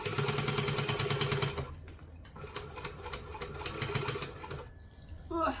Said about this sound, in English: I'm just going to top stitch at 1/8 of an inch